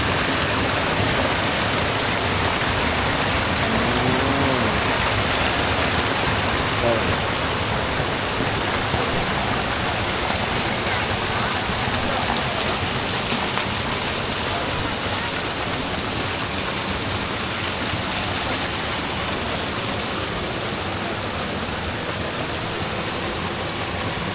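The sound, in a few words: stream of water flowing down from the mountain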